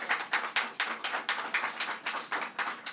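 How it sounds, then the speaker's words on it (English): A round of applause at a government event on combating gun violence: a small group clapping in a steady, even rhythm, fairly faint and without talk. "let's give you another round of applause here."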